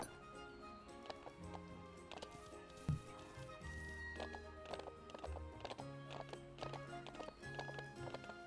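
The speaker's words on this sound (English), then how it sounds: "Let's go look at the wild horses." Horses in the video game The Ranch of Rivershine, hooves clip-clopping in an uneven rhythm with occasional neighs and whinnies, set against soft game music at a moderate, fairly close level.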